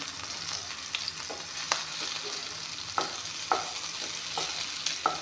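Okra sizzles steadily in a hot pan while being turned, with a run of sharp clicks and scrapes from the utensil against the pan over a constant frying hiss.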